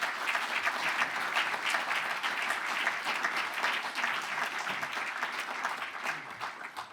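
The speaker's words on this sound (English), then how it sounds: "Sir Patrick Vallance, a round of applause" An audience gives sustained, dense applause welcoming Sir Patrick Vallance to a science lecture, steady and full for the whole stretch and tapering slightly at the end.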